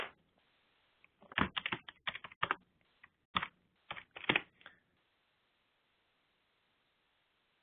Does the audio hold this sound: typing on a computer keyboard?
yes